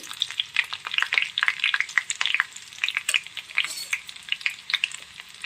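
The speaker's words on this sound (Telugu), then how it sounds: "నెయ్యి వేడెక్కాక అల్లం ముక్కలు వేయండి ఒక రెండు పచ్చిమిర్చి వేసాను" Ginger pieces and green chillies fry in hot ghee, a busy crackle of sizzling pops and spatters close up, with no talking over it.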